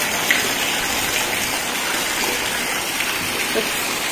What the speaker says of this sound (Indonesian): Ini airnya sampai besar seperti ini.